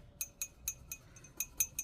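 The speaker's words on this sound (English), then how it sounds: "I think Alicia was looking for some glass clinking" A glass dip pen clinks against glass about seven times in quick, light, evenly spaced taps, faint and close with no talking.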